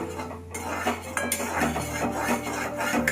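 A spoon stirs in a pan over low heat as gram flour is added, giving scraping and clinking metal strikes at an uneven pace against a steady low kitchen hum.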